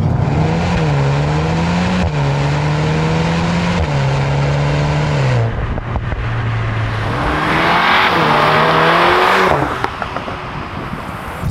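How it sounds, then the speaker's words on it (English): A 2021 VW Golf R Mk8 with its EA888 Gen 4 two-litre turbocharged four-cylinder accelerates hard, heard from inside the cabin: a loud engine note climbs in pitch through repeated gear changes, each shift dropping the revs before they rise again. "That is, of course, the 2-litre four-cylinder turbocharged engine."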